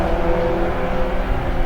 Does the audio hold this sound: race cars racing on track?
yes